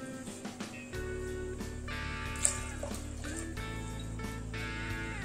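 Water poured into a cooking pot while making vegetable biryani, a steady rushing, splashing pour running close and fairly quiet for several seconds with light kitchen clatter around it.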